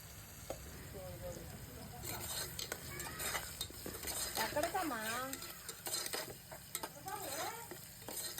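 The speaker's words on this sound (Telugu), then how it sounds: "అలా వేగుతున్న తర్వాత అలా కలుపుతూ ఉండాలి." Food frying in a pan is stirred, with a soft background sizzle under repeated utensil scrapes and clinks against the pan, quiet and close, while someone speaks intermittently.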